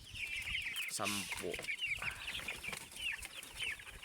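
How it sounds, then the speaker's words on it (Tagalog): Chickens on a farm cluck busily while being fed, a dense flock of overlapping clucks and squawks close by, with someone speaking briefly partway through. "papakainin yung mga manok"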